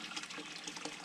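Water pouring out of a pipe outdoors beside a tiny off-grid house, a steady close splashing rush with irregular gurgles.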